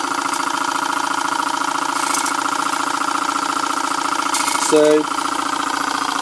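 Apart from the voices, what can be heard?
Boucher S62 steam engine running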